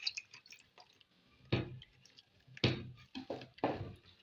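Lye solution poured into oils and beeswax for homemade bath soap, heard as quiet drips and several sharper splashy pours in close succession, with no talking.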